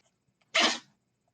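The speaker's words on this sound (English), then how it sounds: "bless you, dog. That was huge sneezes." A single loud, sharp sneeze from a dog close to the microphone, a short burst with quiet before and after.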